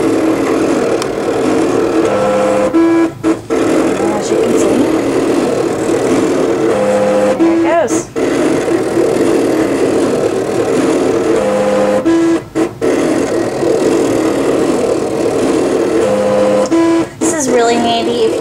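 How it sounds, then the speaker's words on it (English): A Cricut cutting machine cuts twenty-five 2-inch paper circles, producing a steady mechanical whir broken by repeated short carriage movements and clicks at regular intervals, loud and close, with no talking over it. "So we're going to hit cut, and it's going to cut out 25 2-inch circles."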